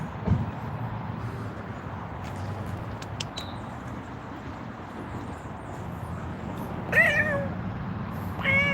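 A cat meows outdoors at night in Santa Rosa, a couple of short, fairly close cries standing out near the end over a low hum of distant traffic.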